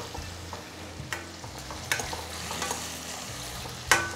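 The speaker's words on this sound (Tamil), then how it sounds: "அடுத்து வெங்காயம். நல்லா அந்த எண்ணெயில் நல்லா வந்து பரவணும்." Onions frying in oil in a pan for a stingray fish curry, a steady close sizzle with repeated scraping stirs of a spatula and a sharper clack near the end, with no voices.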